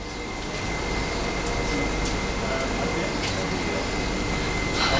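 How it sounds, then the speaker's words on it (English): A train standing at a station in Tunisia, with a steady rumbling hum and hiss filling the space and faint clanks, loud and close throughout. "So here's the right train."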